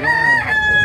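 A fighting rooster crows at a livestock market in Chalco, a sustained drawn-out cock-a-doodle-doo close by and loud, with faint market bustle underneath.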